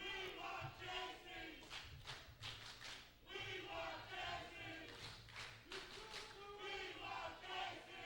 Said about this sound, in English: The crowd wanting Jacey North.